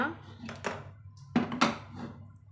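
A frying pan is set down on a kitchen stove while drumstick-leaf soup is being cooked, making two or three quiet metallic knocks and clatters close by.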